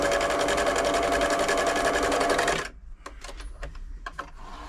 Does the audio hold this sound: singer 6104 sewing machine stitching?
yes